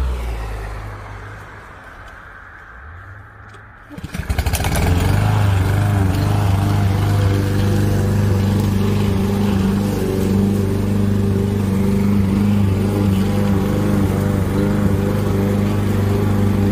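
A lawn mower engine starts after a few seconds of quieter background, then runs loudly and steadily, droning close by while mowing in front of a house.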